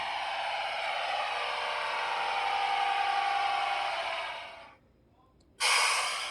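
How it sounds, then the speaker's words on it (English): A Roco model train's sound decoder plays an air compressor: a loud, steady hissing rush for several seconds, cutting out briefly, then hissing again. "Then we have like the air compressor."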